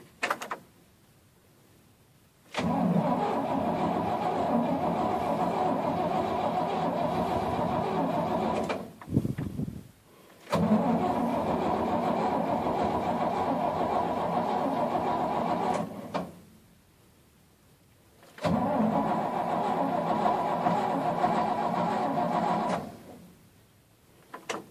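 A 1970 Chevrolet C20 truck engine cranks over on its starter in three long bursts with pauses between them, after a little gas is poured into the carburetor. It is steady and fairly close, with no voices.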